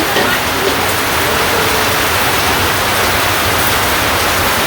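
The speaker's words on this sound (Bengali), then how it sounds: "বৃষ্টির কি অবস্থা সবাই দেখেন" Heavy rain pours down in a village yard where food is being cooked, a loud, dense, unbroken hiss that fills the whole stretch without pauses.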